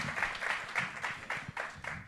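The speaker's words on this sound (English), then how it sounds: "please give a round of applause as we welcome all of our speakers" Audience applause welcoming speakers onto a stage at an evening event, a steady run of fairly close, rapid claps with faint voices mixed in.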